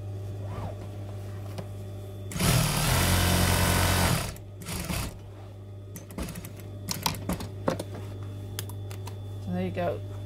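A sewing machine runs a fast, steady burst of stitching along a velvet fabric seam for about two seconds, close and loud, followed by quieter clicks and handling noises of the fabric.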